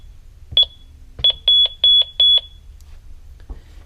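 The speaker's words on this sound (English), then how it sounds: "It'll give us the 3 beeps" A single electronic beep, then a short pause and a quick run of four sharp identical beeps from a Honeywell Lynx Plus L3000 alarm keypad during programming, loud and close.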